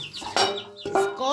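Chickens in a coop cluck and squawk in two sharp bursts, close and loud, with softer throaty murmurs between them and a rising call at the end.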